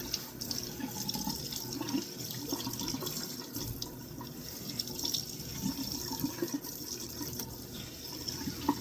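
Tap water runs steadily into a sink or basin while hair is being washed, a continuous close splashing hiss with light drips, without voices.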